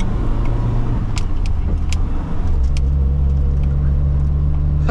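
A 1973 VAZ 2101 drives along steadily, its engine droning loud and close with a constant low rumble, a brief dip midway and occasional rattles and clicks over the top.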